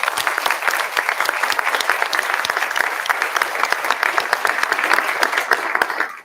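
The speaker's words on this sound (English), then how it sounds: "So let's give a round of applause to everybody" A crowd at the Governor's Awards for Historic Preservation ceremony in Lansing gives sustained, lively applause, many close hands clapping densely and evenly for several seconds.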